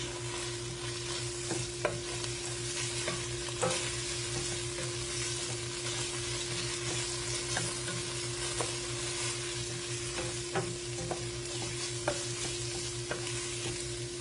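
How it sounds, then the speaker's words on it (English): Dried rosemary and basil cook in a soup pot, giving a low steady sizzle under a constant hum, with faint occasional spoon taps. "And you want to stir and cook that for about another minute."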